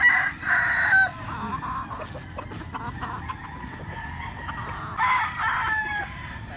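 Fighting roosters crow repeatedly at a Cebu cockfighting-bird market, loud nearby crows standing out over steady clucking and the busy murmur of other fowl, with no talking.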